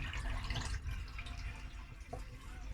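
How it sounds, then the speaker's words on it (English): Dirty water from a Vax Dual Power carpet washer splashes and gurgles as it is poured into a sink, with a few drips near the end. "Pour it down the sink, or the drain, or down the toilet."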